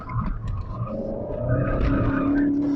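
Car tires skidding and squealing on pavement, a loud sustained screech rising over a revving engine inside the car, continuous for about three seconds.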